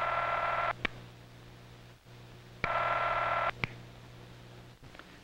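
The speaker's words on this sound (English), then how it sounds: "Or you may hear the sound of the ringing phone." Ringing tone on a 1951 telephone line after dialing, with two buzzy bursts of just under a second separated by longer silent gaps, moderately loud with no voices.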